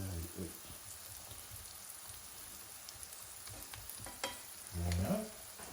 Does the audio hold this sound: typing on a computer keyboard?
no